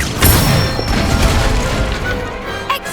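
In Hogwarts Legacy, an Incendio fire spell erupts in a loud booming burst with crackling flame and impact noise, sustained and close, tapering slightly toward the end.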